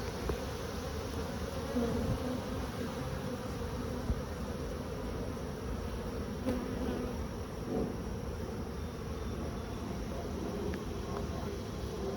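Many honey bees buzz on a hive frame in a dense, steady drone close by, continuous throughout with no talking.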